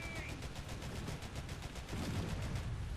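Tank gun and vehicle fire in War Thunder during a British reserve tanks battle, a dense, fairly quiet rumble of rapid repeated reports with a heavier swell toward the end.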